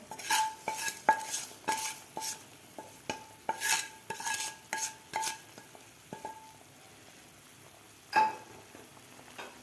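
A spoon scrapes and taps against a pot as roasted broken wheat (dalia) is stirred into boiling water, giving faint, irregular clinks with a soft bubbling hiss underneath.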